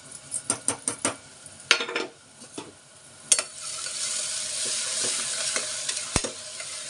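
Chopped onions land in hot oil for a mutton chana dal curry: a run of quick spatula taps and pan clatter first, then a steady rising sizzle with occasional light scrapes, close and without speech.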